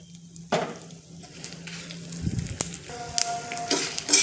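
Curry leaves and spices frying in hot oil for a chutney tempering, with sudden bursts of spitting and crackling over a low sizzle, plus clinks and scrapes of a spoon, close and with no talking.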